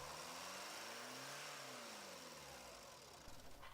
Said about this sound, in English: rev the engine up to 2500 to 3000 RPM and then shut off the ignition